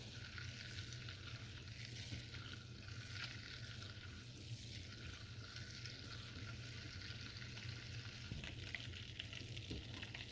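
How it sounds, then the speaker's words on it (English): A candied yam mixture caramelizing in a pan makes a faint, steady sizzle with a low hum beneath, while light stirring noises come and go through the quiet background. "You have to like stir it up a little bit."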